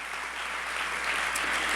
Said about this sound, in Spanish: Y eso merece un aplauso bien, pero bien grande.